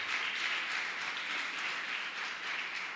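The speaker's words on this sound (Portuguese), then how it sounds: "Você pode aplaudir o Senhor?" A church congregation applauds during a sermon, giving a steady, dense patter of many hands clapping that holds at an even level throughout, with no speech on top.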